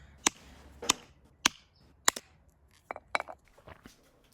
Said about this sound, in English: every so often you'll encounter an especially defiant nut. Just keep hitting it, and hitting it again, and hitting it again